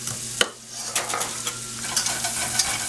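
Salted onions fry in a pan, with a spoon stirring and scraping the bottom. A steady sizzle sits under sharp metallic scrapes and clicks, close and alone, with no talking.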